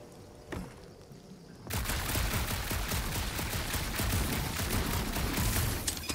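Rapid gunfire in a Guardians of the Galaxy video game, a dense, loud burst of repeated shots that starts abruptly after a brief quieter lead-in and continues steadily to the end.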